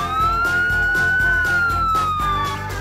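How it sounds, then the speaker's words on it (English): A police car siren wails alone in a steady, loud rising-and-falling tone that carries through the whole stretch, with no voices over it. "It's a police car."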